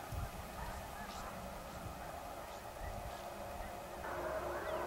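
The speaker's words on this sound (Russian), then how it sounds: "Пошли гуси с воды на кормушку." Geese flying from water to a feeding field during an October morning hunt in Saskatchewan, Canada, honking intermittently at a distance over steady wind-like background noise.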